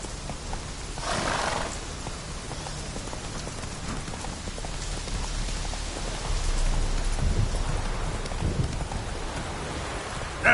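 Roach, the horse in The Witcher 3, trotting with a steady patter of hooves under a constant wash of rain, mid-distance and fairly even in loudness.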